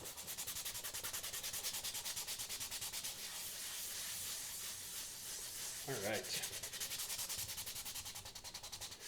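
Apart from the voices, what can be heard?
sanding a face shell by hand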